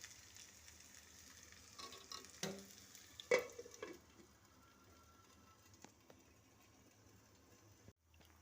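Bitter gourd slices frying slowly in a little oil in a covered pan, a faint steady sizzle with a few louder clatters early on, quiet and close, no voices.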